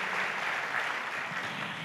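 A church congregation applauds in a dense, continuous wash of clapping that holds steady throughout.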